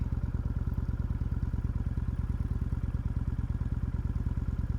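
A Kawasaki motorcycle is ridden on the open road, and its engine makes a loud, continuous, rapidly pulsing drone that stays steady throughout.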